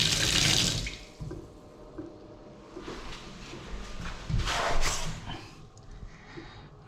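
Water runs from a tap into a bath during a leak check on fresh plumbing, a close steady gush that eases into quieter splashing and trickling, with a brief surge partway through.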